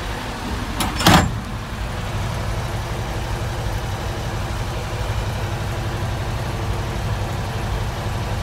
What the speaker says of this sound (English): This truck has a crack in the manifold and it is it's nasty.